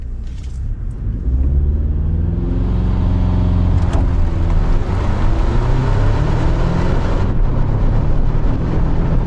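A 2024 Toyota Tacoma pickup roars into a hard 0 to 60 acceleration, its deep rising drone loud and sustained with rushing road and wind noise over several seconds.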